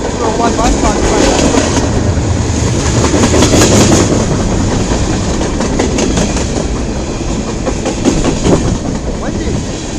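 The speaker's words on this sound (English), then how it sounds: "Yep, the CN M301 westbound train." Long CN M301 westbound freight train rolling past near Emmett, Michigan, a loud continuous rumble with rhythmic clickety-clack of wheels over rail joints, buffeted by wind noise.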